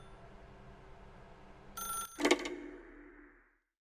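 Telephone ringing in The Stanley Parable video game: a single bright electronic ring bursts out over a quiet low hum, then fades away into silence.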